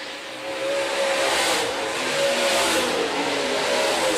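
Hobby stock and late model stock cars race around Rapid Speedway, engines swelling in as the pack sweeps past and holding at a loud, sustained, revving drone.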